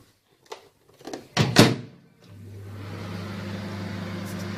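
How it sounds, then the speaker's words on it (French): In a home kitchen, a microwave oven door clicks and thumps shut with a few handling knocks, then the oven starts up and hums steadily while melting butter. "On va le mettre dans le micro-ondes."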